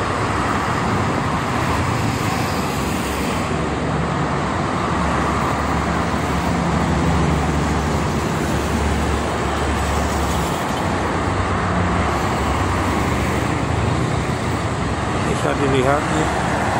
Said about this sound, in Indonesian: Lumayan ramai kendaraan truk barang.